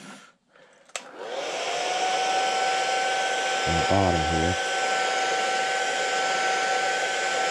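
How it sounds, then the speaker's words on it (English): A hair dryer, used to dry airbrushed paint on a fishing lure, starts with a click and blows with a steady high whine close by, continuing loudly while someone speaks briefly over it. "Sorry about the hair dryer."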